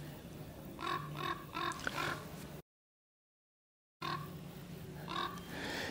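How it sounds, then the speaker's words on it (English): A crow caws in repeated bursts of three or four harsh calls, fairly close and clear over outdoor ambience near a mountain cliff, with a short gap of silence between two call sequences. "It's a pretty noisy crow."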